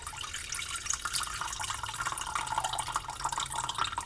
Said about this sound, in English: I'm going to drain the juice